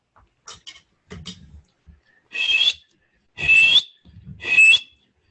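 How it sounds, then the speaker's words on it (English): Three clear whistled notes with slight pitch slides, each a second or so long, after a few soft taps and rustles; close and fairly loud. "And I can whistle this way."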